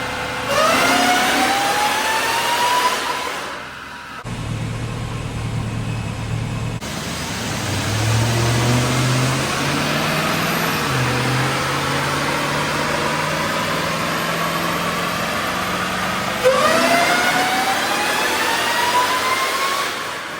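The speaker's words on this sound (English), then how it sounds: "we can put it back up on the dyno and run it a little bit more" A supercharged Hellcat 5.7 engine runs on a dyno, roaring loudly as it winds up through two long revving pulls, with a brief drop in between and a rising howl again near the end, with no voices.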